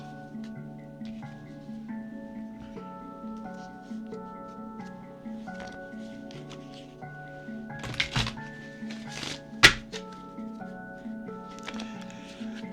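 Chakra wisdom cards are shuffled in soft, close rustles and light slaps, with a couple of sharper taps, over a steady background hum.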